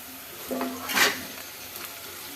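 Sliced bitter gourd frying in a pan with onion and green chilli, a soft sizzle under one brief scraping stir of the spoon in the middle, moderately quiet.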